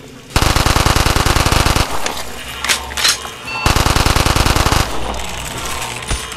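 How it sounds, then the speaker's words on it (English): Rapid SMG gunfire in Minecraft rings out in two long, loud automatic bursts, each about a second and a half, separated by a stretch of softer game noise and brief whooshing effects. "Nothing like an SMG, yeah!"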